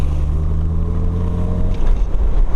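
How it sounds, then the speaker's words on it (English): Exhaust note of a classic Jaguar sports car accelerating: a loud, steady low engine drone with strong harmonics, close by, rising slightly near the end, with wind noise and no talk. "when this thing gets up and goes through the gears and that exhaust note"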